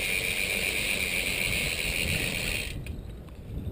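A bicycle chain spun through a CM-5.2 chain cleaner full of solvent, making a close steady whirring, rattling drone that cuts off abruptly near the end, leaving quieter handling noise.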